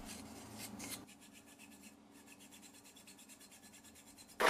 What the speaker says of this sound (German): Die einzelnen Formteile werden mit dem Formtrennmittel F1000 von Vicon eingestrichen